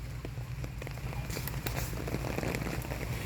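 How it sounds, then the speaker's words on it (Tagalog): Steady rain falls over a flower garden in Gasan, Marinduque, a dense continuous patter of drops on surfaces with occasional sharper splashes, close and even throughout with no talk. "Kaya lang umuulan."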